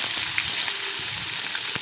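Chopped onions fry in hot oil in a wok after a cumin tempering, giving a steady, dense sizzle with faint crackles throughout, close and with no talking.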